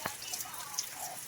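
Heavy rain pours down steadily during the rainy season, a dense, even hiss with a few sharper drop impacts standing out near the start, and no one speaking.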